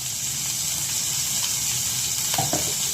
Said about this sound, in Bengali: এখন আমি এগুলোকে তেলের ভিতরে দিয়ে ভেজে নিব।